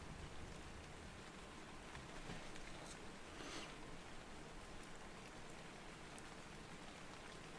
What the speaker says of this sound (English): And it's a rainy day on the ARK.